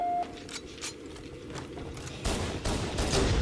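Sniper rifle shot in a multiplayer shooter game, a sharp crack followed by several more gunshot bursts, fairly quiet and mixed with game noise.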